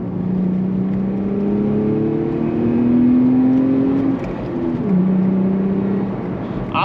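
A Lexus IS250 with its back box exhaust deleted drives along with a steady, loud engine drone whose pitch rises through a gear, drops at a shift, then holds under continuous road noise.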